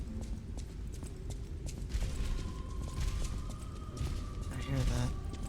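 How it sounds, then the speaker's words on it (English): Footsteps echo through a hallway in the video game Lies of P: a run of hard, clopping steps over a murky in-game ambience, with a faint voice also present. "I'm listening for footsteps."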